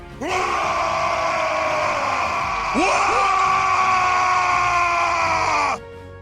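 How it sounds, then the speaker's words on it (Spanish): Two long, loud, harmonic war cry shouts from several voices in unison, each rising then held steady, the second starting about halfway through. "eso, ese es su grito de guerra"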